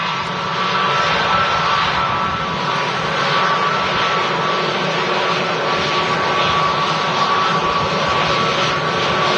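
A Lufthansa jet arriving from Munich at Manchester Airport gives a loud, steady engine roar with a broad, even rush that holds without break, and no voices over it.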